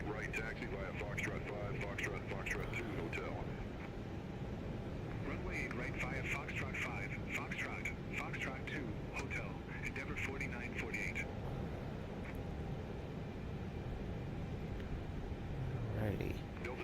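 A simulated airplane engine throttles up for a night takeoff from Atlanta's KATL airport. The steady, loud engine drone runs throughout while someone talks over it.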